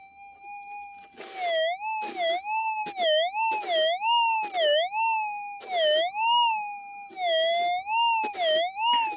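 Metal detector signal over a possible gold target in winter prospecting ground: a warbling electronic tone rising and falling in repeated pulses, loud and close, with faint scraping bursts behind it and no talk.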